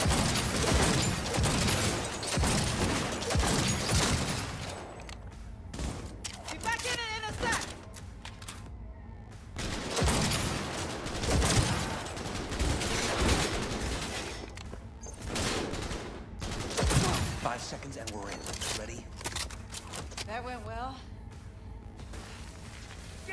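Rapid bursts of automatic gunfire in Cyberpunk 2077 combat, loud and repeated across the whole stretch, mixed with game voices and shouted callouts between volleys.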